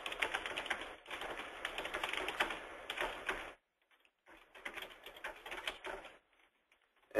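Quiet, rapid keystrokes on a computer keyboard patter in two dense bursts separated by a short pause, close and alone with no voices.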